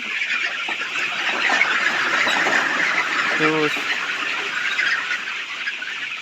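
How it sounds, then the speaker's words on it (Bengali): Thousands of layer pullets in a poultry farm shed fill the air with dense, continuous clucking and chatter, a loud steady flock din with one brief nearer squawk midway. "এখানে হচ্ছে সাত হাজার মুরগি আছে"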